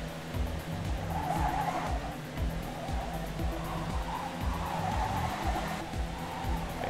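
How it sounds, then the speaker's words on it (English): A race car in the game Trackday Manager, with a loud steady engine roar and rapid repeating rhythmic pulses, plus tire squeal and skidding throughout and no pause. "turn that accelerator off, turn it back on, and just gun it"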